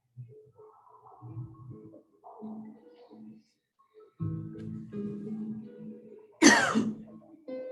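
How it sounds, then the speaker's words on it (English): A few short throat clears and coughs, ending in one sharp louder cough, close and otherwise quiet. "Cough out any congestion or blockages in the throat and the voice box."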